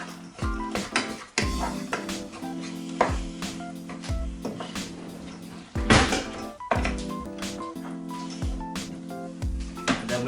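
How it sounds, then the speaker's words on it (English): A spoon stirs chili-spiced quinoa in a cooking pot, making repeated clanks, scrapes and dull thunks against the metal in an uneven rhythm, close and moderately loud. "Just going to give that a stir around."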